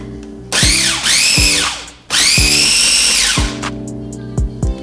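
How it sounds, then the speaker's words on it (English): A food processor blends a vegan kale salad dressing in two loud, close bursts of whining motor noise, the pitch sagging and climbing as it runs, with a short pause between them and quiet clatter afterward. "Now I'm gonna put the lid on the processor, and we're just basically gonna mix it all up for about 20 seconds."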